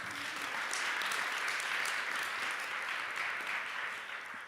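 An audience at a Berlinale Talents panel applauds with dense, steady clapping that holds loud for several seconds, then tapers slightly at the end.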